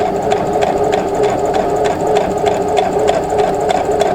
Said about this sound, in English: just sew right off the edge, no back stitching